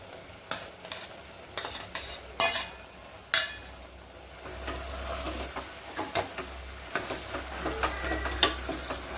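Bhoti curry with tomatoes being stirred in a pan, a spoon scraping and clacking against the metal in irregular bursts over a soft background sizzle, with no talking.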